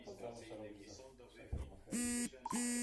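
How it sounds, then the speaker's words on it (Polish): A harsh electronic buzzer-beep from a Piggy Pop toy board game sounds in two loud sustained bursts signalling an SMS alert, following a stretch of talk. "Dobra, SMS przyszedł."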